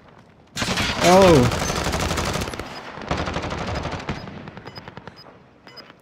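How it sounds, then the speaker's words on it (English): Rapid automatic gunfire in a Call of Duty match, a dense burst at close range followed by continuing bursts and scattered shots, with a brief exclamation from a player over the shooting. "Who the fuck firing at us?"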